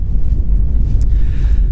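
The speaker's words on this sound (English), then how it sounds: "So it's quite windy." Wind buffets a microphone in low, rumbling gusts, loud and close, with no talking.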